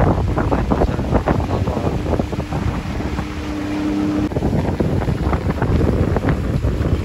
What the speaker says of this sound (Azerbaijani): Başqa lodkalar da var, qayıqlar.